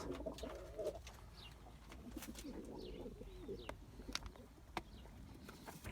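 Pigeons coo repeatedly inside a loft, soft low calls recurring over steady background noise, with a few brief chirps and light knocks.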